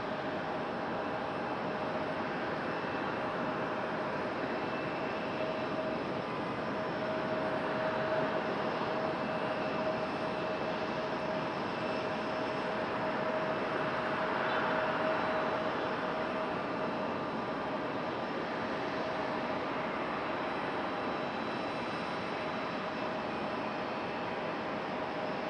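A Boeing 777 airliner taxis out toward the runway at Raleigh-Durham International Airport, giving a steady, moderately distant jet-engine whine with a faint tonal hum that swells slightly partway through, with no voices.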